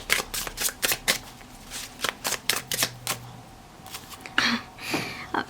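Repeated quick riffles of tarot cards being shuffled by hand, a series of crisp, close fluttering bursts in an uneven rhythm with brief pauses between them.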